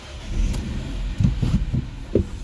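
A 2017 Citroën C4 engine starting up close by: a low, steady rumble with a few short bursts of revving in the second half, and no talking.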